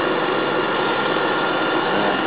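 A homemade cooler's compressor and cooling fan run together in a steady, unbroken whirring hum, close and fairly loud, with no voices.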